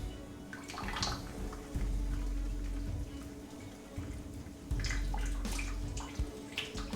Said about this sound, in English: And now the pumps starts pumping. The Brewmaster pumps the water from below and upwards. So it makes quite a nice fountain.